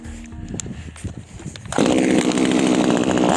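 Small one-handed Vitals chainsaw, nearly new and under repair, starts after its fuel mixture is enriched: quieter mechanical sounds give way to a loud, steady two-stroke engine running close by.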